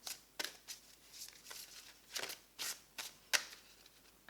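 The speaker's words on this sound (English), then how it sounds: "So I'm going to shuffle." Tarot cards are shuffled by hand in a series of crisp riffling bursts, about eight to ten separate flutters at uneven intervals with soft quiet gaps between them, close up and fairly soft.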